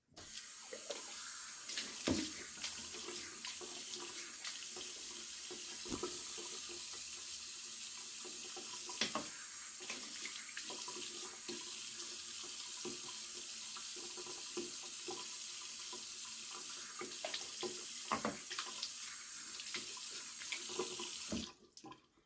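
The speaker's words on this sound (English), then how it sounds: "All right, one more rinse." Tap water runs steadily into a bathroom sink for a final rinse after shaving with a Merkur 34G safety razor, a continuous close hiss with small splashes and shifts as hands move through the stream, stopping near the end.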